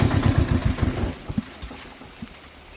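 A borrowed vehicle's engine idles close by, a low rhythmic chugging that pulses strongly for the first second, then fades to a quieter, uneven rumble.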